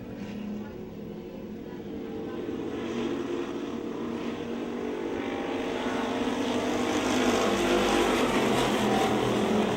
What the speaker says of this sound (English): Car around in corner, 61 takes it for a loop.